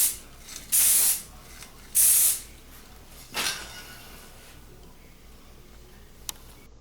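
Krylon gray primer sprayed from an aerosol can onto a Matchbox Dodge Challenger model car: two loud, short hissing bursts close by, then a shorter fainter puff, followed by quiet with a small click.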